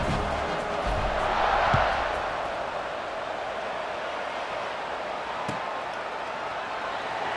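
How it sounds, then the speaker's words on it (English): Stadium crowd in the video game EA Sports College Football 26 buzzing after a score, a broad roar that swells early then settles into a steady, distant murmur. "this crowd is buzzing after that last score."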